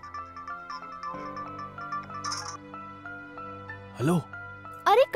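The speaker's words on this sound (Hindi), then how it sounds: "अन्नू की फोन।" A phone ringtone plays as a repeating melodic tone pattern, moderately loud and close, with people talking over and around it in a Bhojpuri film scene.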